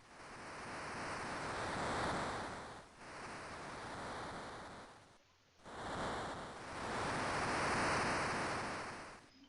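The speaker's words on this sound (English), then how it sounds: "I like the fact that you can hear the waves" Ocean waves in the video game Final Fantasy V Advance, a continuous broad wash of surf that swells and recedes in long slow surges, loud and steady with brief dips between waves and no talking.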